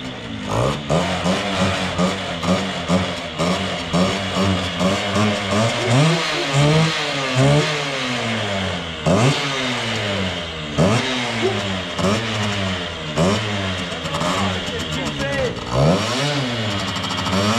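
A lawn mower engine fitted with an 80cc Airsal cylinder kit revs hard and close, its buzzy two-stroke pitch sweeping up and down in repeated throttle blips, while people talk over it at times.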